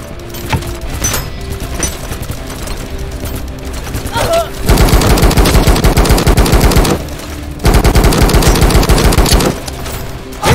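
Gunfire in the Kinki Spiritual Affairs Bureau horror video game, where a girl shoots ghosts: two loud, sustained bursts of rapid automatic fire, each lasting a couple of seconds, over a tense game soundtrack with scattered single shots before them.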